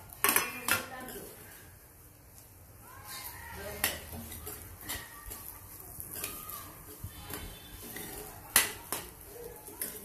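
Semolina roasting with dry fruits in a pan: scattered metallic clinks and scrapes of a spoon against the pan, moderately close, with a person talking and faint bird coos in the background.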